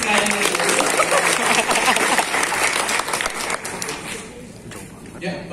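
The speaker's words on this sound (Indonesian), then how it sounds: "Sebelum kita mulai, kita tepuk tangan dulu untuk BXC sekali lagi." An audience at a marketing presentation applauds for BXC, with dense, loud, sustained clapping that thins and softens toward the end.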